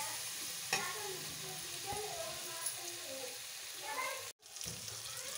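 Chopped tomatoes with salt being stirred in a pan for Nellore-style chepala pulusu, a steady sizzle with scraping spoon strokes and a brief break near the end.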